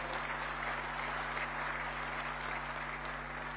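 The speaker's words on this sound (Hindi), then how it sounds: "आपको फिर से ताली बजानी पड़ेगी।" Crowd applause during a speech by the Home Minister, a steady, even wash of many hands clapping, faint and distant under a constant electrical hum, with no talking.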